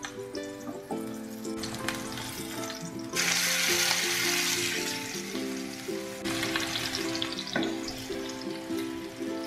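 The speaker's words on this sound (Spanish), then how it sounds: "Lo que voy a hacer es que voy a freír los tomates para la salsa." Tomatoes and serrano chile fry in hot oil, a steady crackling sizzle that swells louder partway through, close and continuous with no talking.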